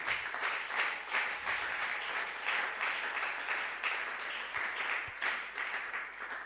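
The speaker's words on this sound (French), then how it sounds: "Nous pouvons acclamer." A church congregation applauding during a Sunday worship service, sustained clapping at moderate distance, fairly soft and even, with no clear speech.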